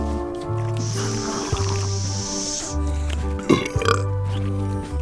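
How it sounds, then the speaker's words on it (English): A long, loud comic burp from a blowfish in the Return to Monkey Island video game, heard over bouncy game music with a wet squishy effect near the end. "So can I burp at will now?"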